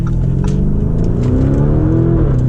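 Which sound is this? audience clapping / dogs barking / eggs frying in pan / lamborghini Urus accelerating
lamborghini Urus accelerating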